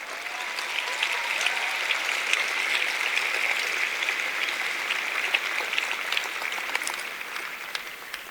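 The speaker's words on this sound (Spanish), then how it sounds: "¿Te ves a estos chicos en tu generación? Dale ese aplauso." Crowd at a youth church event applauds in a steady, moderately distant wash of clapping, sustained evenly throughout with no voices over it.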